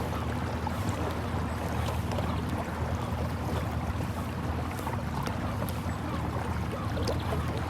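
Boat with a new electric engine cruising on a Norfolk Broads river on a windy day, giving a steady, even wash of water and wind noise with no voices.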